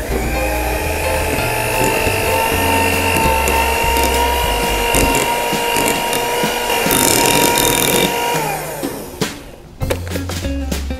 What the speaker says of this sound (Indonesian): Sambil dinyalakan mixernya menggunakan kecepatan rendah saja sudah cukup.